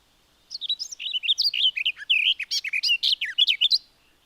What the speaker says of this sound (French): Et on peut même écouter le son du chant de la fauvette.